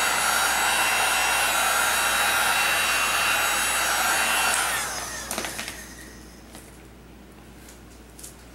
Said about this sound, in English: I'm comfortable with a heat gun, so that's what I'm using.